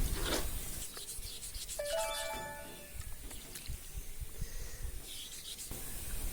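Wet 1000-grit sandpaper rubs steadily over an alabaster carving of a wheat grain shaped like a Möbius strip, a continuous close gritty swishing with a brief squeak partway through, no speech.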